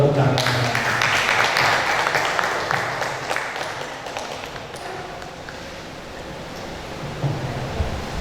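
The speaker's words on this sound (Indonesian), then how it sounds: "Kita tepuk tangan." Applause from a church youth group gathered for a wedding photography business talk, strong at first and then thinning out into scattered claps, with murmured voices in the room.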